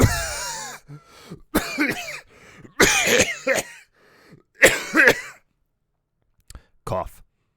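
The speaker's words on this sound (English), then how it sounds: "Cough, cough, wheeze, sputter, cough, cough." Several bursts of coughing and sputtering, some clustered in quick pairs, with pauses between, spread across the clip and fairly close; a voiced character coughing in a dusty dark room in the video game Phoenix Wright: Ace Attorney - Dual Destinies.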